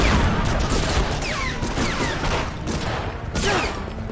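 Gunfire in the Medal of Honor Frontline video game, a dense continuous fusillade of shots and booms, loud and close throughout with no talk.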